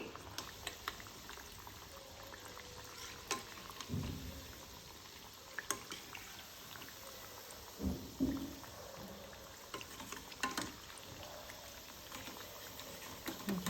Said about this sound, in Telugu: మనకు ఆయిల్ వేడైపోయింది ఇప్పుడు మనం అన్ని మంచిగా ఫ్రై చేసుకుందాం